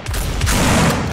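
Gunfire in Half-Life 2 Deathmatch, a loud burst of rapid overlapping shots with booming low impacts packed into about a second.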